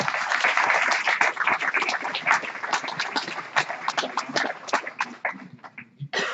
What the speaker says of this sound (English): you know where everybody's clapping, right?